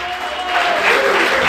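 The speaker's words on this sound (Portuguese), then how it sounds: "Você pode aplaudir e exaltar a Deus nessa noite, aleluia." Church congregation clapping during a worship service, steady dense applause that swells louder in the second half, with a faint voice underneath.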